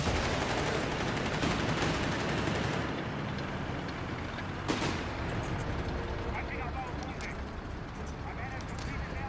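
A Stuka strafing run in Company of Heroes 3, a dense roar of gunfire and explosions packed into the opening seconds, then thinning to scattered distant shots while a commentator keeps talking over it.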